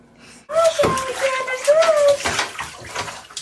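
A child splashes water in a bathtub, the sloshing under an adult's close, encouraging voice and a child's whining, bursts of splash rising through the short stretch.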